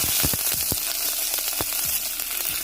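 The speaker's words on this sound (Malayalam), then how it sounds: "കടുക് പൊട്ടിക്കഴിഞ്ഞാൽ ഇതിലേക്ക് ഒരു തണ്ട് കറിവേപ്പില ഇട്ട് കൊടുക്കുന്നുണ്ട്." Curry leaves crackle as they are dropped into hot coconut oil where mustard seeds have just popped, a Kerala-style broccoli thoran tempering: steady close sizzling with sharp scattered pops throughout, no voices.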